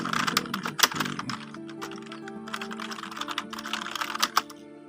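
Typing on a computer keyboard, steady rapid key clicks close to the microphone over a faint low hum, with a few louder strokes standing out.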